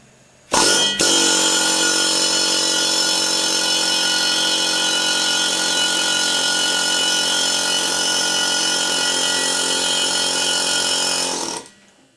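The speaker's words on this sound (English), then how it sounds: "Make sure you're right over top and just broach the ball through." A sizing ball is broached through a valve guide repair sleeve, producing one loud, steady, strained mechanical whine that runs continuously for about ten seconds before cutting off, with no talking.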